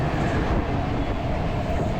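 A passenger train on the Ratnagiri to Mumbai route runs with a steady, loud, dense rumble and faint rhythmic rail clatter, heard up close without pause and with no voices.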